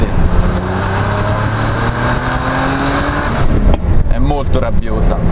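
A Ferrari 512 BB with its flat-twelve engine roars loudly and continuously, a dense, raspy howl that rises under load and then shifts as gears change, heard up close from inside or beside the car.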